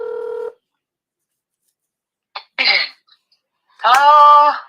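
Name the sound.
telephone dialing tones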